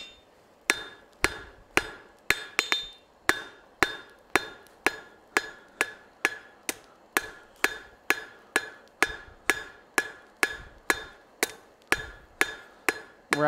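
A forging hammer strikes hot metal on an anvil in a steady run of loud, ringing blows, close and evenly spaced, with no talk.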